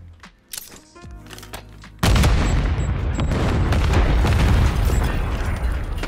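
A grenade blast in Modern Warfare III Search and Destroy, a sudden loud boom that bursts in after quieter game sounds and leaves a long, heavy rumbling roar.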